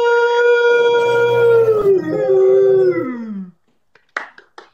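A person imitates a whale call with their voice: a long, loud, wavering moan that slides downward and fades out over about three seconds, followed by a few short, faint sounds.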